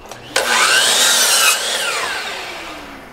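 A power saw bites into a wooden board for a holiday tree project: a sudden loud whining cut lasting about a second, then the blade winds down and fades.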